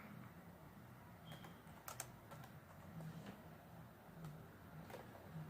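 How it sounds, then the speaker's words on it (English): Computer keyboard typing, a quiet run of light, irregular key clicks in a calm room, with no talking. "I'm just going to type something."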